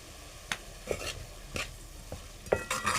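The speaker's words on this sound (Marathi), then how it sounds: "आपण परत ढवळून घेऊ" Pav bhaji vegetables stirred in a pan, with soft scraping strokes of a spoon at intervals over a faint sizzle, close and quiet.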